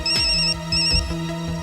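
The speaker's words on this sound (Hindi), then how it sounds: "फोन का नाम लिया और फोन आ गया" A mobile phone ringtone plays in a tense crime-drama scene: a bright electronic melody of repeating tones, loud and close, with no talking over it.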